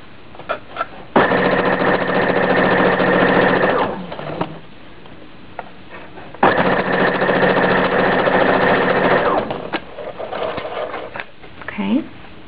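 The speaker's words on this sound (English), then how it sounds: "Just want to sew down, keeping the edges together, the bias tape edges and the seam edge." A sewing machine stitches bias tape onto a seam edge for a Hong Kong seam, running in two steady, loud bursts up close with quiet handling noises between them.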